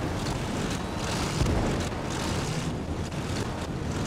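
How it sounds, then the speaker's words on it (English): Vehicle engines roar forward during a Cold War Marine Corps beach landing in the Gates of Hell video game, a steady, dense rush of noise mixed with wind and surf. "Oh, hear those engines just push through."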